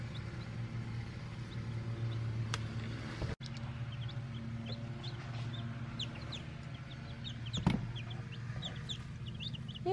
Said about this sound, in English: Hey chickies.